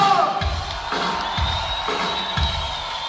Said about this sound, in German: Warmer Applaus für Nopper!